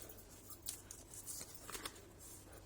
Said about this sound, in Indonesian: aku sangat-sangat senang sih dengan suara-suara, kertas hitung uang ini kayak satisfying banget lagi.